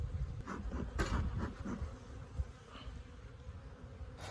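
Honey bees buzz around an opened hive that survived the winter, a steady low droning hum with a few louder passes close by, heard alone without talk.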